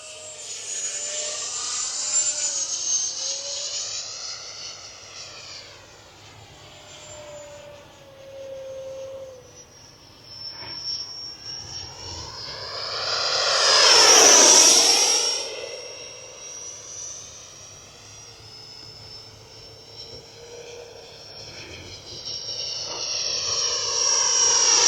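An E-Flite 80mm F-16 electric ducted-fan model jet flies past at about half throttle, its whine rising and falling with distance and swelling into a loud, close pass midway before building again at the end.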